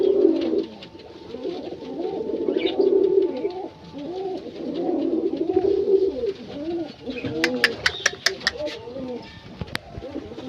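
A male pigeon of a fancy domestic breed coos repeatedly at close range, rolling throaty calls in rhythmic bursts, followed by a few sharp clicks and taps near the end.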